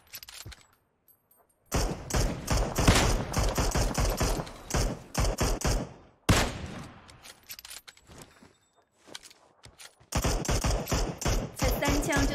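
Gunfire from PUBG, including a 98K bolt-action rifle, comes in loud, rapid bursts of sharp shots. The bursts are separated by short silent gaps.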